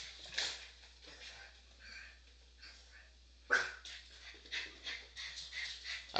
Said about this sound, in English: Kyrie, stop barking.